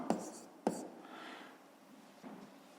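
A pencil or pen writes by hand on paper during a fifth-grade maths exercise, with two sharp taps followed by soft scratching strokes, close and quiet, no talking.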